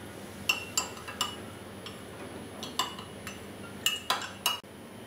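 A spoon clinks against the inside of a cup while stirring honey into a home cough remedy, a series of sharp, close metallic taps at an uneven rhythm over a quiet background.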